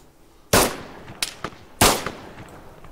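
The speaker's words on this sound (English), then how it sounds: "This gun sounds a lot different outside." Gunfire rings out outdoors in ARMA 3, with two loud, sharp shots about a second apart and a few fainter cracks between them, each trailing off in a short echo.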